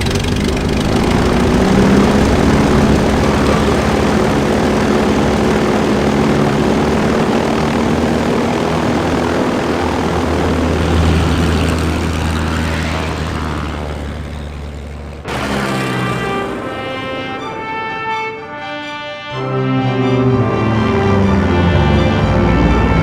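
In the Amerzone video game, an aircraft engine roars loud and steady with a propeller drone after the throttle is engaged. Midway the sound briefly changes and thins, then the full engine roar swells back.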